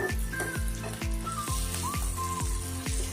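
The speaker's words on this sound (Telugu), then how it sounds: "యాడ్ చేసి హై ఫ్లేమ్లోనే ఇలా కలుపుతూ ఫ్రై చేసుకోవాలి." Bitter gourd and onions fry in a pan on high flame, a constant loud sizzle broken by regular clicking stirs about twice a second, with no talking.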